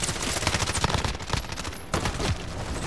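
Rapid bursts of gunfire blast through a stone wall in Call of Duty: Modern Warfare, loud and dense with sharp repeated cracks filling the whole moment, no talk over it.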